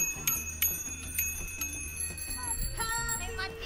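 A bicycle bell rings in a series of bright, metallic strikes, about five or six, while a group cycles around Germersheim, Germany. A low background rumble of riding sits underneath.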